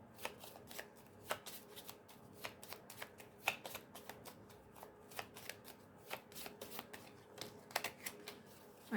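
A deck of tarot cards is shuffled close by in quick, crisp bursts of riffling and slapping, repeating rapidly throughout with small pauses between them.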